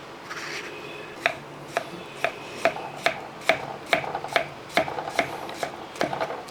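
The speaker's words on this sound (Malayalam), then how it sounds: "ചെറുതായിട്ട് നമുക്ക് അരിഞ്ഞെടുക്കണം" A knife chops potatoes into small pieces on a board in a steady run of sharp, evenly spaced taps, close and clear, with no talking.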